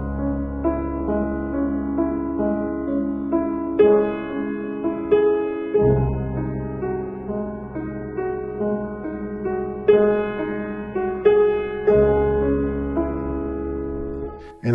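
Solo piano playing a flowing romantic-era passage by Liszt or Beethoven, each bar's final sixteenth note slightly stretched into a brief hesitation before the next downbeat; sustained bass and chords ring clearly with no talking.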